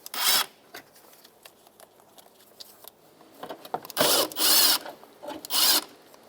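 An 11mm socket ratchet spins out tin locking screws from a corner light on a 2008-2012 Jeep Liberty, giving short bursts of close, raspy clicking with quieter fiddling and tapping between them, no voice present.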